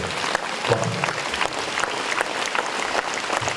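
An audience claps loudly and continuously at the 2016 Christmas and New Year concert of a brass band, a dense close ovation lasting a few seconds.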